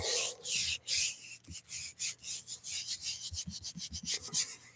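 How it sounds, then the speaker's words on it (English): Paper rubbed by hand against a gelli printing plate gives a close, dry, rhythmic swishing in repeated strokes of uneven length that carry on steadily without pause. "give it a good rub"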